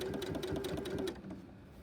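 A sewing machine stitches skirt fabric in a steady rapid whirring rhythm, close and moderately loud, then stops abruptly partway through, leaving quiet room tone.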